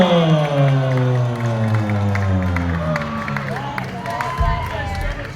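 Live rock concert crowd clapping and cheering for the band, a steady roar of applause and whoops under sustained instrument tones and someone talking.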